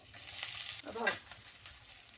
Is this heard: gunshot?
no